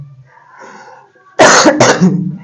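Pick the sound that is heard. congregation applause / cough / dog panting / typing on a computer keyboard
cough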